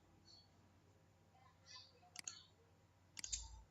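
A computer mouse clicking quietly twice, single sharp ticks about a second apart, over faint room hiss with no talk.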